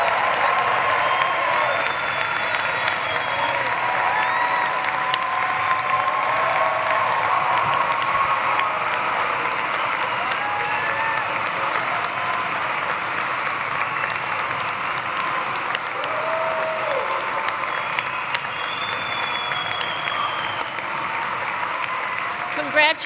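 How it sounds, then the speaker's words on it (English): A graduation audience in an arena applauds in steady, dense clapping that holds evenly for over twenty seconds, with faint cheers and voices mixed into the sustained ovation. "Let's give a round of applause for our U.S., Europe double graduates and the class of 2023."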